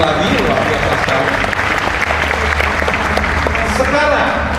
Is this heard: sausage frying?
no